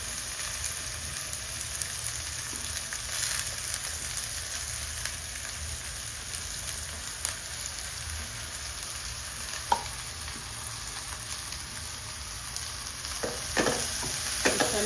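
Chopped raw onion frying in a pan for pav bhaji, a constant soft hiss and crackle with occasional spoon scrapes and a few sharper clinks near the end.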